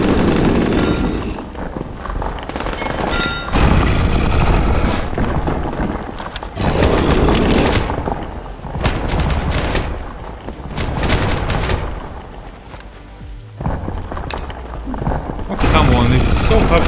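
Gunfire in the isometric supernatural ghost-hunting game HellSign comes as repeated loud bursts and booms in clusters separated by brief lulls, close and dense, with a voice talking over it.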